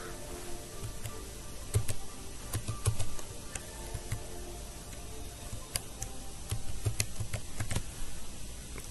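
A password is typed on a computer keyboard, producing a run of sharp, light key clicks in an irregular rhythm over a steady background hum, with no voices.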